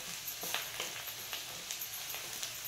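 Spices crackle and sizzle in hot oil in a pan for a zunka tempering, a soft steady frying hiss with small pops, heard alone and fairly faint.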